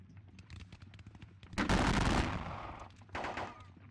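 Musket volleys fired at grenadiers in a Napoleonic war video game: a low crackle of distant shots, then a loud rolling burst of gunfire that fades, followed by a shorter second burst.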